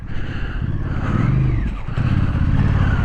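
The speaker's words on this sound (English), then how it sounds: "The mighty KTM." A KTM motorcycle engine runs close by at a river ford, a loud steady throaty drone with a rising rev midway, then a brief dip before the engine note resumes.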